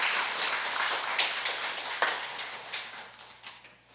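A congregation claps during a Sunday worship service marking a church's 13th anniversary, with scattered sharp claps that gradually taper off and fade.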